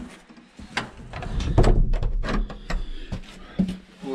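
Cellar door being closed by hand, a series of wooden knocks, scrapes and thumps at close range, with one heavier thud near the middle and a few sharper clacks afterward.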